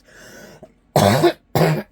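Two sharp, loud coughs close by, spaced about half a second apart, after a brief stretch of quiet murmuring.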